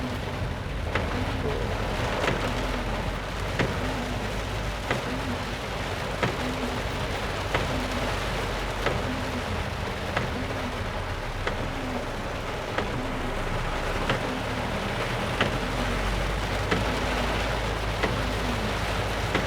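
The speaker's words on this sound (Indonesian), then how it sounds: "Hujan lebat" Heavy rain pours steadily during a drive, a dense continuous roar of drops with faint rumbling beneath, lasting throughout without voices.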